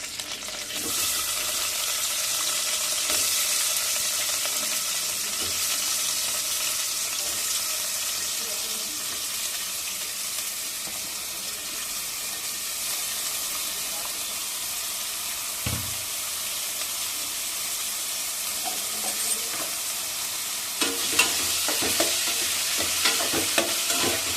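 Sliced onions fry in plenty of hot oil for an ivy gourd (dondakaya) curry, giving a close, steady sizzle with frequent stirring scrapes, and a few sharper clatters come near the end.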